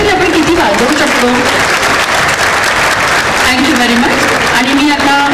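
Audience at a Rotary district conference breaking into loud, sustained applause, dense clapping filling the hall steadily from start to finish with scattered voices underneath.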